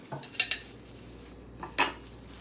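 Mango salad ingredients with salt, MSG, sugar and peanuts being tossed together in a bowl, giving a few close, sharp clinks and scrapes of a utensil against the dish between quiet pauses.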